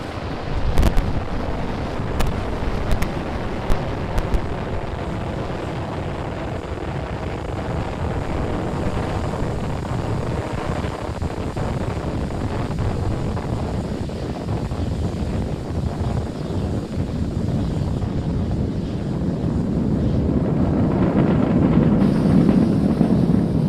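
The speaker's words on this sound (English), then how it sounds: "Falcon 9 has successfully lifted off from our pad 39A at the Kennedy Space Center, carrying a stack of Starlink satellites into orbit" A Falcon 9 rocket ascends after liftoff from pad 39A at Kennedy Space Center on a Starlink mission, a steady distant roar that swells slightly toward the end, buffeted by wind noise.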